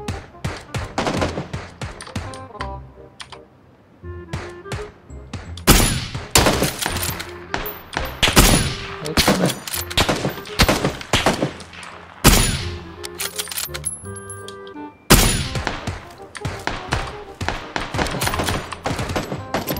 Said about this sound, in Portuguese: Atira aí pra me dar cobertura.